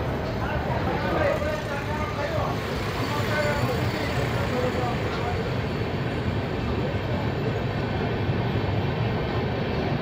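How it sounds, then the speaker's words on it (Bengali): Bhubaneswar-Howrah Jan Shatabdi Express pulling out of Cuttack Junction, a steady broadband rumble and rattle of the moving train heard from onboard, continuous throughout with faint indistinct voices in the background. "কিছুক্ষণ দাঁড়ানোর পরই কটক থেকেও ট্রেন ছেড়ে দিয়েছে"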